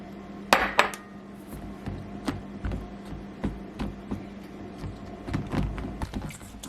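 Spoon mixing flour into mug cake batter, with sharp clinks and taps of metal against the mug, two loud knocks early, then steady irregular scraping and tapping close by.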